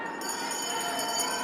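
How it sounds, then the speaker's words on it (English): A bell rings for the final lap of a 5,000 m junior speed skating race at the Canadian long track championships. Its steady ringing tone carries over a busy arena background. "Into the bell lap for Jack Vandenberg"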